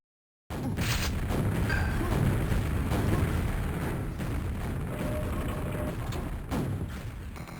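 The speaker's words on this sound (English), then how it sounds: "there he goes for a nade kill" Grenade explosion in the Quake World video game during a 1on1 tournament semifinal, a dense continuous roar of blasts and gunfire that fills the whole stretch with no talk.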